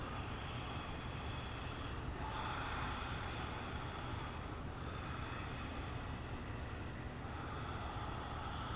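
Ujjayi yoga breathing done with the mouth open makes a soft, ocean-like rushing breath, a continuous faint hiss that swells gently with slow inhales and exhales.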